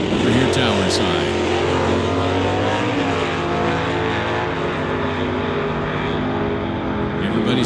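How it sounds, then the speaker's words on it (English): A 1996 Camaro Super Stocker launches at an NHRA Summit ET drag race, a loud sustained engine roar near the track, with a commentator talking over it. "Check out the launch on Rick McKinney's Camaro on the spectator side"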